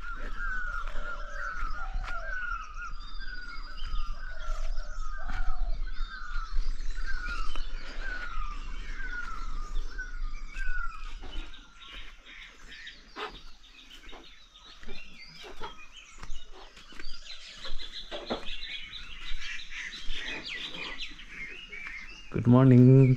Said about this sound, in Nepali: ल अचम्मै लाग्यो मलाई यतिको चराको आवाज सुन्दा चाहिँ।